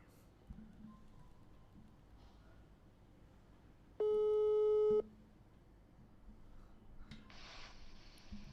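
A steady electronic ringback tone sounds once for about a second, loud and clear over a quiet background with faint rustling around it.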